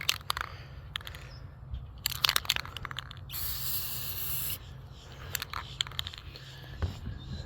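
A brief hissing spray from a spray paint can onto an Estes Hi-Flier XL model rocket sounds for about a second, surrounded by quiet rubbing, tapping and handling noises.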